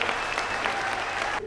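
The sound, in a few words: audience applause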